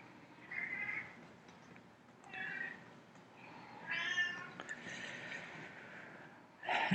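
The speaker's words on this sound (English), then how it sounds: "Ignore the cat." A cat meows several times indoors, giving drawn-out, fairly faint calls spaced a second or two apart, with a longer whining meow in the middle and a sharper cry at the end.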